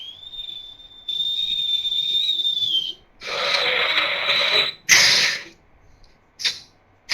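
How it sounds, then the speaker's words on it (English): A train passes with a sustained high whistle tone at the start, followed by loud broad rushing bursts and a few sharp short blasts, fairly close and without talk. "Sound of a train."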